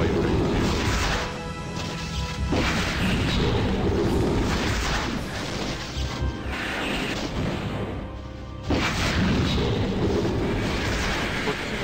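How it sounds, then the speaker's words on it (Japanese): Loud, dense explosions from the video game DOOM 2: Eviternity, crashing booms that blast in repeated bursts with short lulls between them and fill the whole stretch without any talk. "爆発するエフェクトっぽいのがあったけど、"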